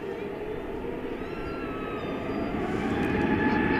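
A Frontier Airlines jet taking off at night at DFW Airport makes a broad engine roar with rising whining tones that grows steadily louder toward the end, alone without talk.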